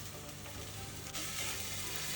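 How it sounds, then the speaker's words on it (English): Tomato paste frying in a pan for jollof pasta with tofu gives a steady, close sizzle of broadband hiss that grows a little louder partway through, with no talking. "the tomato paste is frying now."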